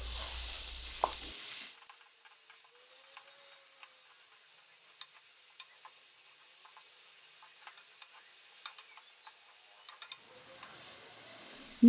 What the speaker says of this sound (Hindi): चंद सेकंड के लिए मैं इसको फ्राई कर रही हूँ